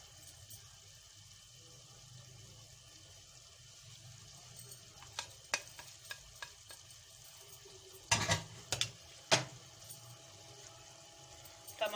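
Dry spices for qeema palak stirred and frying in a pan, with a faint low sizzle underneath and a series of sharp spoon scrapes and clatters that cluster loudly toward the end.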